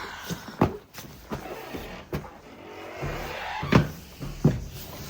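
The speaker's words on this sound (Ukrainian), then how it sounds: "я закрила двері." A door is shut indoors by a woman who has just come in, giving several short thumps and knocks across a few seconds with a slightly louder pair near the end; no talking is heard.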